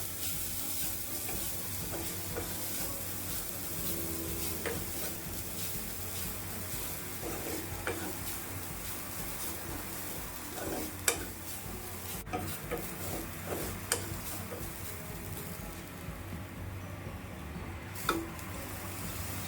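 Chopped spinach and grated coconut stir-fried in a pan for a Kerala cheera thoran give a steady, close sizzle broken by scraping stirs and occasional sharp clinks of the utensil against the pan, with no talking.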